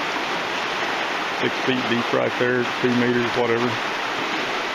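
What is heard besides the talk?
rapids of Coker Creek flowing in Tennessee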